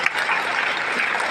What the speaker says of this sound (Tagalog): Pwede ba palakpakan po natin ang lahat ng ating mga magigiting na pastor?